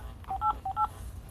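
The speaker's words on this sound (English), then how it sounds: "please enter the following number on your phone's touchtone pad." Two short touch-tone keypad tones sound close together on a phone, each a crisp dual-pitched beep, followed by quiet line hiss.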